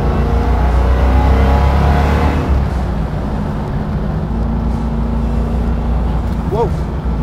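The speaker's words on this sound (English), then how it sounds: "Obnoxiously loud. Yeah. Definitely sounds like a Hellcat." A supercharged 707 hp Hellcat engine in a '71 Barracuda drones loudly from inside the car, a deep heavy rumble that eases slightly after a couple of seconds, with voices talking over it.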